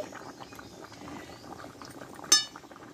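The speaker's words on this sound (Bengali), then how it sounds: "দিয়ে এবার আমি আরও কিছুক্ষণ মতো ফুটিয়ে নেব" Potato and pointed gourd curry with sugar and ghee bubbles gently in a pan, a soft continuous simmer with a single sharp clink of utensil against the pan near the end.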